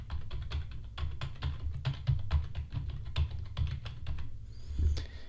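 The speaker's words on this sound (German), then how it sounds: "Ich tippe jetzt in mein Notepad, während ich jetzt hier einfach spreche" Typing on a computer keyboard into Notepad, heard through a dynamic broadcast microphone on a mic arm: rapid, irregular key clicks close to the mic, continuing steadily for several seconds with no speech.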